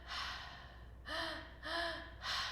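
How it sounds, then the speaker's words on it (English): During a guided active breathwork exercise, a person exhales forcefully and breathes hard in repeated rushes of breath, three or four close, airy pulses in a slow rhythm, with no words spoken. "Breathing, belly, chest, exhale."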